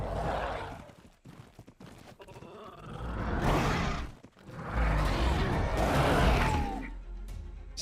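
Horse under attack by terror birds in a video game: hoof clatter and neighing mixed with crashing, whooshing bursts that swell and fade in two loud waves.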